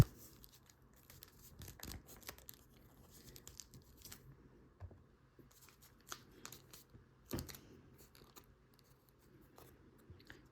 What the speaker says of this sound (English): first just fold the stabilizers like that, right over that edge, and fold the wings up